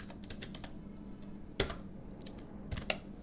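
Keys clack steadily on a computer keyboard while someone types a web address into a browser tab, with a few louder strokes standing out near the end. No voices accompany the typing.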